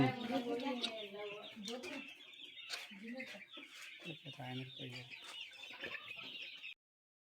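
Quail cluck and chatter in overlapping bursts throughout on a quail farm, fairly close, with a few sharper calls and some background activity, ending abruptly.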